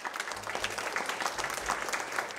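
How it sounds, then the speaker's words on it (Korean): An audience at a university startup program results presentation applauds as a presenter is called to the stage, a dense steady clatter of many hands clapping for a couple of seconds. "여러분 힘찬 박수 부탁드릴게요"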